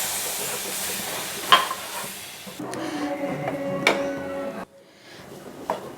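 Moong dal cooking in ghee in a pan as milk is added and stirred, giving a steady close sizzle and hiss with scraping stirring strokes, a few sharp clinks, and a quieter bubbling stretch near the end.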